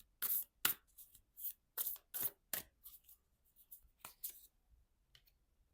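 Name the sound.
shuffling star seed oracle cards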